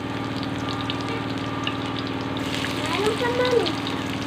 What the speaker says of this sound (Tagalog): Doon po natin ipiprito ang igigisa ang sibuyas at bawang.